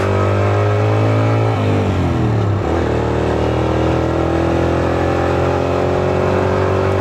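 Motorbike cruising on the Hazara Motorway, a loud steady engine drone close to the microphone, with the pitch dipping briefly as the rider shifts and then climbing back up.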